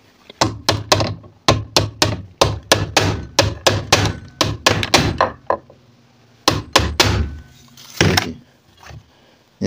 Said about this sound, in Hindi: नीडल को ऊपर करेंगे और हथौड़ी से यहाँ पे इस पर मारेंगे